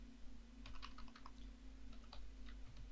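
Quiet, rapid keystrokes on a computer keyboard while entering a spreadsheet formula, two short bursts of clicking over a steady low electrical hum.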